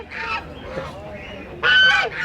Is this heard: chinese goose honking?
yes